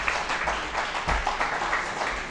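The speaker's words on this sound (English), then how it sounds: "A big round of applause to Dr." An audience claps steadily for an award recipient at the valedictory ceremony of a horticulture conclave at NAU, Navsari, a dense, sustained round of applause with no talking over it.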